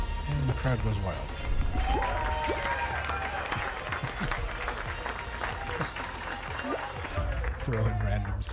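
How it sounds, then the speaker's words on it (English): A crowd cheers and applauds as a sound effect over game audio while playing Fall Guys, with a dense, steady wash of clapping and shouting running for several seconds, joined by game music and effects. "crowd goes wild."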